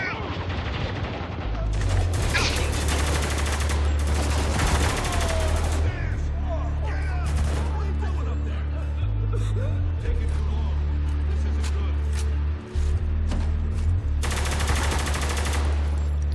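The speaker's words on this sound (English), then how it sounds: "Looks like I'm shooting American soldiers." Soldiers are gunned down in Spec Ops: The Line, with dense automatic gunfire and repeated bursts over a low engine-like drone, plus gasps and voices mixed in throughout.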